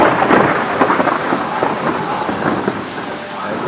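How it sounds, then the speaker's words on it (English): A thunderstorm in Astorga rumbles loud and close, with thunder rolling under a dense hiss of heavy rain striking surfaces, continuous throughout. "It's lightning and thunder."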